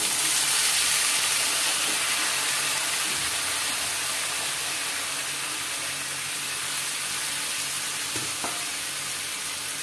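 Cauliflower stalks, taro and gourd fry in oil in a kadhai over a gas flame, a loud, continuous sizzle and hiss with a few faint stirring knocks and no talking.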